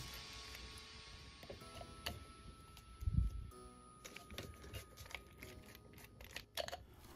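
A small screwdriver backs screws out of the LED mounts on an LG XBOOM GO PL7 speaker's passive radiators. Faint ticking and scraping clicks come close up, with one louder clunk partway through.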